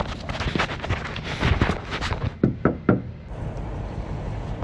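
Several knocks rap on an apartment door during a less-than-truckload delivery stop, a loose cluster of thuds followed by three sharper, distinct knocks, close and moderately loud over outdoor wind noise.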